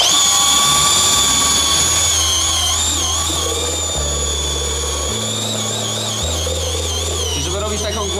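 Cordless drill driver with a paddle mixing a bucket of gypsum skim coat plaster, a steady loud motor whine that shifts pitch in steps as the speed changes and runs continuously throughout.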